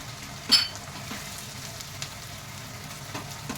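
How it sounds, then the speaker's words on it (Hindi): Chopped tomatoes dropped into ginger-garlic sizzling in a pan for anda bhurji: a brief clattery splash, then a steady close frying hiss continuing alone. "ये देखिए, हम इसमें टमाटर डाल देंगे।"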